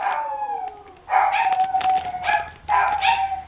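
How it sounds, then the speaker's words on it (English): A dog howls outdoors in long, wavering tones, rising and falling in three drawn-out bursts at moderate distance, with no talk over it. "And that's Oliver howling out there."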